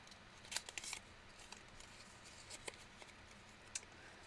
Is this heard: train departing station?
no